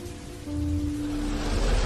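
Heavy rain falling at night, a dense steady hiss of water on surfaces with a low rumble beneath, constant and fairly loud throughout.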